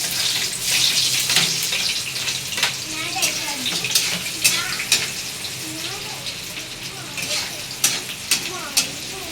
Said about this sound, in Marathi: तर कांदा असा मस्तपैकी लालसर होसपर्यंत थोडासा हलवत राहायचं.